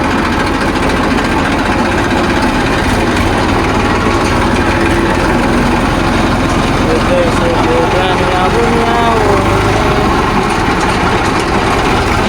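A diesel tractor engine running after refuelling, a loud, steady, close rumble throughout with no pauses.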